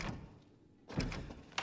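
A door shuts in the Resident Evil 8 video game: a soft scrape and then a solid thunk, followed by a second sharp knock, set against quiet ambience.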